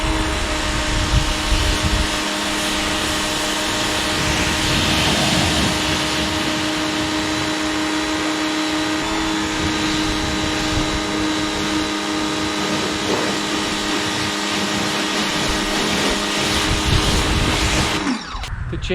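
A Teande 1600W 3000 PSI electric pressure washer running and spraying, a loud, steady, close motor whine with broadband hiss that holds unbroken for most of the stretch, then cuts off abruptly near the end.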